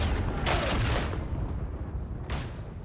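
A grenade blast in the World War I mountain warfare game Isonzo: a dull booming explosion with rumbling battlefield gunfire around it, then another sharp burst near the end.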